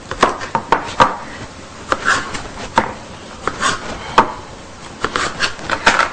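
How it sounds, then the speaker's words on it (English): Knife cutting up celery on a board in a kitchen: a steady series of sharp, close chopping strikes at an uneven rhythm, with no voices over them. "And now I cut up the celery."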